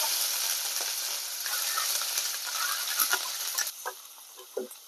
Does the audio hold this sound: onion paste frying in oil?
yes